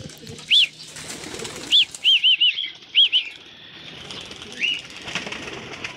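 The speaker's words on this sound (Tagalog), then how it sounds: "Ayan na mga kalapatids, bubuyelo na sila." Pigeons take off in a burst of loud, sharp wing flaps, several quick claps close by, then fade, with faint chirps and outdoor background.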